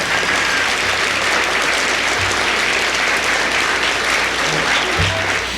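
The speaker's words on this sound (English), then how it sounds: "So another round of applause for Fred Sommers" An audience at an elementary school community celebration gives loud, sustained applause for a guest, a dense continuous clatter of many hands with no break.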